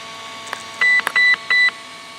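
A few sharp clicks followed by three steady electronic beeps at a regular pace from a Hobbywing QuicRun 10BL120 G2 speed controller in a Traxxas Rustler RC car, fairly loud and close, with no talking.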